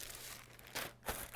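Packing tape being pulled off a roll for an eBay shipment, in two short ripping bursts close together over quiet room noise.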